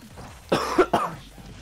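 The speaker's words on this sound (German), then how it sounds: "Kannst du mal woanders hin husten?" A few sharp coughs and throat-clearing bursts, close and loud into a microphone during a Super Smash Bros. Ultimate gaming session, with quiet background in between.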